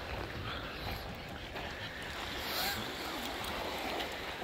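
Calm sea at Arkhipo-Osipovka on the Black Sea coast: a steady broadband wash of gentle waves with soft wind noise on the microphone, continuous and even, no talking.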